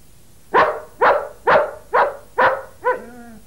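A dog barks six times in a steady, evenly spaced series, loud and close, the last bark trailing into a higher whining tone.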